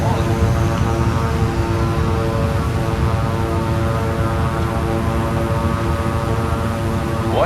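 Propeller aircraft engine in Microsoft Flight Simulator 2020, a steady loud droning hum with a hammering pulse that runs unbroken throughout, with faint talk underneath.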